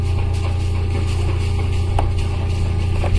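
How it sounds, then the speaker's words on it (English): A generator on a Grady-White boat runs with the air conditioning on in 100-degree heat, giving a loud, steady, low droning hum with constant broadband noise and no pauses. "Pardon the generator noise there."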